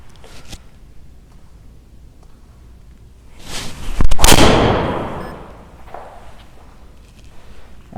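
Golf driver shot with a Mizuno ST200G driver, a single sharp impact crack followed by a fading rush as the ball flies off, heard alone against quiet outdoor background.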